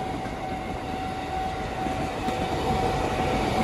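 A Jakarta KRL electric commuter train rumbles past a level crossing continuously at moderate distance, a steady broad roar with a faint tonal whine running through it.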